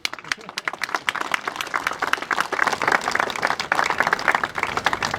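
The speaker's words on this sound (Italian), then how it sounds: "Con un grande applauso." An audience at the inauguration of a historic monument in Codognè breaks into dense, lively clapping close by, with a voice speaking briefly over it.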